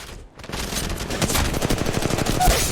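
Rapid gunfire in a PC shooter video game, a dense stream of close, loud shots after a brief lull, the bursts running steadily to the end with no talk over them.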